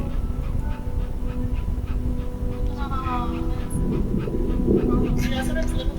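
A dog in the video game That Dragon, Cancer pants and whimpers softly and steadily nearby while a person talks over it.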